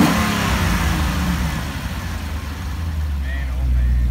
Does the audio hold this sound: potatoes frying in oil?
no